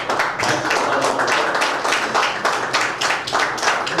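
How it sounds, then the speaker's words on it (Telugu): An audience at a Vivekananda Jayanti youth event gives a round of applause, dense, close and steady clapping from many hands throughout. "ఒకసారి గట్టి చప్పట్లతో మనం,"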